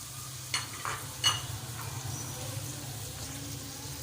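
Chicken stir-fries in a pan with a soft, continuous sizzle, broken by a few sharp scrapes of a spatula early on, heard fairly close and alone.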